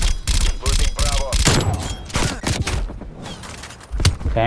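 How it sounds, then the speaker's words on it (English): Light machine gun fire in a competitive multiplayer shooter, dense rapid bursts of loud close-range automatic shots with brief gaps, overlapping other gunfire and a voice talking underneath. "they're all using light machine gun"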